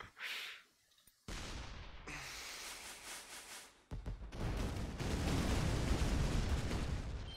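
A rapid series of sharp bangs and crackling bursts from fireworks in the game Shellshock Live, building into a dense, loud, continuous barrage toward the end.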